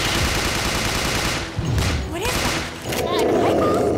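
Sustained automatic gunfire in a video game, loud and close, rattling almost continuously with a brief lull before resuming, heavy shots mixed with a voice speaking over the action.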